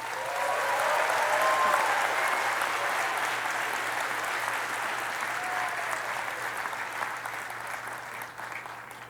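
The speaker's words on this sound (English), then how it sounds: "Another round of applause." A large commencement audience applauds graduates at a 75th commencement ceremony in 2023, sustained dense clapping filling a big hall, steady and slowly tapering without speech.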